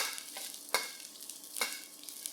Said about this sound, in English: when the oil is hot, add in your garlic and dried chilies. Fry all this till they are fragrant